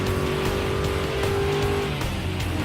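Vantage Group 4 race car in Gran Turismo Sport drives with a steady loud engine drone, holding one pitch before shifting, tires faintly scrubbing along the way.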